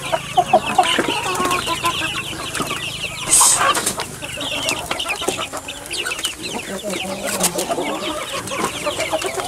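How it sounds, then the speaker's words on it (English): Chickens, including a small native hen, cluck and murmur close by in a busy pen, with a brief louder squawk partway through and soft rustling throughout. "There's that little native hen."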